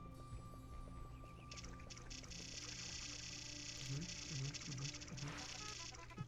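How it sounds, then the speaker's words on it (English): Several small, soft splashes as Pikmin drop into water in the Pikmin video game, spaced a beat apart and heard under a steady, quiet in-game music bed. "the sound for the Pikmin going into the water isn't that great"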